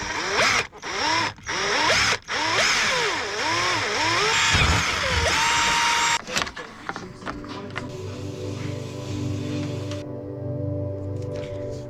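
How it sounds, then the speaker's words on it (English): Holes are drilled into a sailboat with a power drill, giving loud whirring bursts that rise and fall in pitch with short pauses, then a lower steady hum in the final seconds. "Drilling holes into boats."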